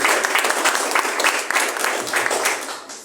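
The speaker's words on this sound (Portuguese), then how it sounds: "Vamos receber o servo de Deus com palmas bem forte e bem alegre para o Senhor Jesus." Church congregation clapping loudly and steadily, a dense, continuous wash of applause lasting the whole stretch with no talk over it.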